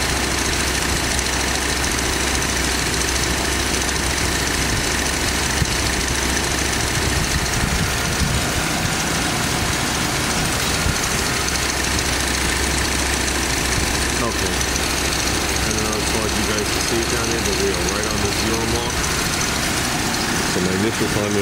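A car engine idles steadily during an ignition timing check, a continuous low rumble with faint knocking texture throughout, with someone talking over it.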